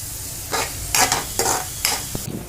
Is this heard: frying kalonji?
yes